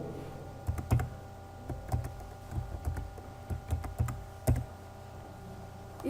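Keystrokes on a computer keyboard as a password is entered, scattered clicks in short irregular bursts, close and fairly quiet over a faint steady background hum, with no voices.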